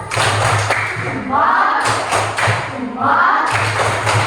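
A sixth-grade class in an Indonesian school claps out a rhythmic group clap chant together, with loud bursts of clapping and chanting voices repeating in a short pattern.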